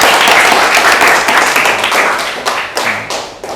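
A classroom of about twenty students applauds together, with loud, dense clapping that holds steady and then thins into scattered, uneven claps toward the end.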